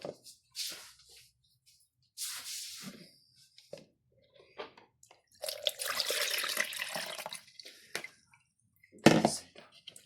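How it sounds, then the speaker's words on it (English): Dandelion honey being strained, with several short bursts of trickling, splashing liquid separated by quiet gaps and a longer pour in the middle, close and fairly clear. "Hold on, that needs straining again."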